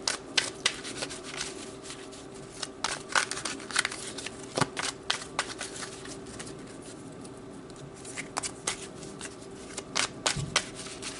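Tarot cards being shuffled by hand, a run of crisp riffling and flicking bursts with soft taps, close and fairly quiet with no talking.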